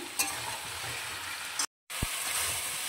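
Spices sautéing in a pan for a Bengali pointed gourd and prawn curry, a steady close sizzle and fry with a brief dropout and a soft clink of stirring.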